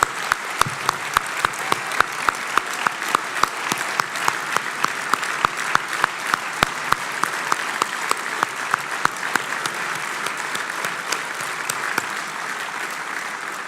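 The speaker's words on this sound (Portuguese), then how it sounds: "Uma salva de palmas para todos eles, todos os eleitos aqui neste Congresso Nacional." Applause for elected members at the national convention of the Portuguese party Chega, a dense hall-wide clapping with sharp individual claps standing out near the microphone, holding steady for over thirteen seconds before tapering slightly.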